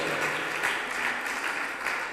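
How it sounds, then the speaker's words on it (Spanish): Church congregation clapping strongly in praise to God during a Spanish-language service, a continuous, even roar of many hands clapping at steady volume. "Den un fuerte aplauso a Dios"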